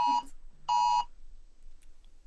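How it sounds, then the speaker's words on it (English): Two loud electronic tornado warning alert beeps sound a short pause apart, then give way to quiet background hum. "The beeping sound, that making sure everything is just okay. That was a tornado warning."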